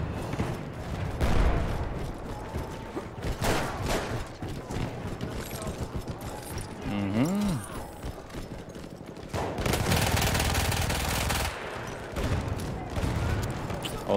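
Villar Perosa submachine gun fire in the shooter game Battlefield 1 comes in rapid bursts with battlefield noise, separated by quieter gaps, while someone talks over the action.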